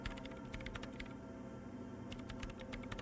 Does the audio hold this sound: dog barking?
no